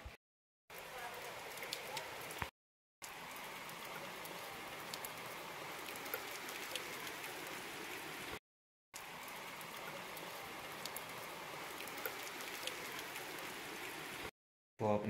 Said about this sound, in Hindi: तो कंटिन्यू बारिश लगी हुई है